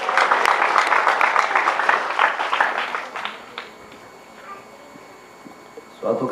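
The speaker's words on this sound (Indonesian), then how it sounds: "Kita beri tepuk tangan buat Tuhan Yesus." A crowd at an evangelistic revival service claps for about three seconds, then the applause fades into quiet before a voice starts at the end.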